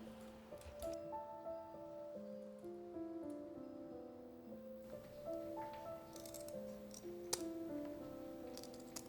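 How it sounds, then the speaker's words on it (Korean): Scissors snip the fins off dried young hairtail being prepared for a braised dish, giving a few sharp, close clicks and cuts beneath steady background music. "가위로 잘라줍니다."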